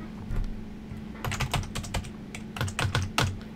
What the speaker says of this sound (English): And then you are going to type Jude's password